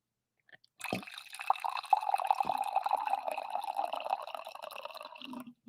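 Coffee poured into a cup, a steady trickling stream starting after a brief pause with a couple of soft knocks, liquid gurgling and rising in pitch as it fills, heard close and fairly quiet.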